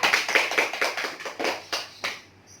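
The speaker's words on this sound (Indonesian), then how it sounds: "tepuk tangan untuk Iska" Schoolchildren in a classroom clap for a classmate in a quick run of about ten distinct, fairly close claps in a steady beat, spacing out slightly before stopping.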